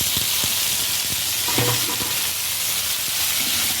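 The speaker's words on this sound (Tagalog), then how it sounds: "lahat ng gulay ginigisa ko para hindi siya masyadong malata" Squash sautéing in a hot pan gives a steady broadband sizzle with stirring scrapes and light clinks, close and continuous, with no talking.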